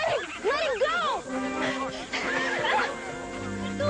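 A horse neighs loudly in several rising and falling whinnies close by, with shouting voices and a scuffle around it.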